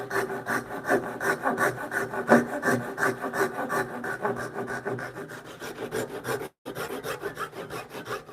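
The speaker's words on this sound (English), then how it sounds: "Ooh, that cut into the tenon" Steady hand tool rasping and scraping at a wooden tenon on a bunk bed rail, a rhythmic back-and-forth stroke repeating close up for several seconds with one brief pause.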